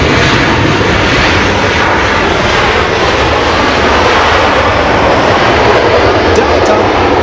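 Airliner arriving at Los Angeles International Airport, a loud, continuous broadband engine roar that holds steady throughout, close and dominant with nothing else audible.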